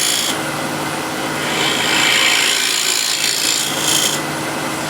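A shear scraper cuts into wood spinning on a lathe, giving a steady, loud broadband rasping hiss that swells for a few seconds mid-pass over the continuous hum of the machine, with no voices.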